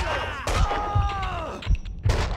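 Gunfire in the Max Payne 2 video game: a quick run of four or five heavy, booming shots at irregular intervals, loud and close, with game sounds and voices layered underneath.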